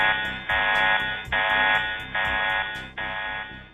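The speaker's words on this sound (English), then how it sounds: "An alarm at the VLT console indicates to the astronomers" An electronic alarm at the Very Large Telescope control console sounds in repeated loud pulses, a harsh buzzing tone switching on and off in a steady rhythm with no voices.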